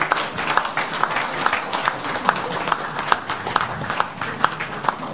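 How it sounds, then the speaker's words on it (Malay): Audience applause in a hall at the close of a Malaysian panel discussion, a steady wash of many hands clapping with sharp individual claps standing out throughout. "Kita beri tepukan paling gemuruh kepada kedua-dua yang berbagi Tun."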